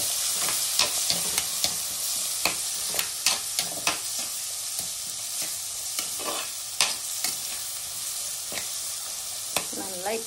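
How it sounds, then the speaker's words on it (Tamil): Onion and garlic sizzle loudly in hot oil with curry leaves and turmeric for a fish curry, a steady frying hiss broken by repeated scrapes and clinks of a spoon stirring in the pan. "நல்லா இப்படி வதக்கி விடணும்."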